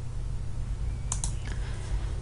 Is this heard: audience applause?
no